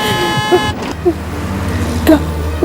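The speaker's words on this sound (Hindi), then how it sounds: "गाड़ियों की आवाजें आ रही हैं" Busy street traffic with vehicle horns honking, a long sustained horn at the start, then short toots over a constant road rumble.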